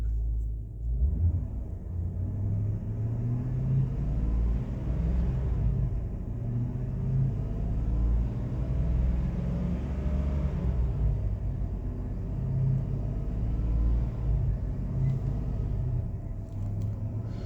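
A 2006 Chevy Tahoe police interceptor engine revs up and falls back several times, a loud, continuous low rumble with rising and dropping pitch, close by and with no one speaking.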